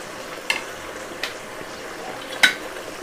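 Spoon scraping through masala frying with coriander powder and salt for a Jaipur-style potato, onion and paneer curry: three distinct sharp scrapes or clinks against the pan over a faint low sizzle.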